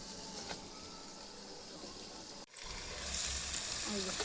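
Food fries in oil in a pot on a clay stove, a soft continuous sizzle with a brief dip midway before it swells slightly louder, quiet and close with no talking.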